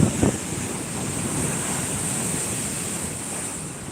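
Surf rolls continuously onto Shankarpur beach, a steady broad wash of breaking sea waves with heavy wind buffeting the microphone and a brief sharper crash near the start.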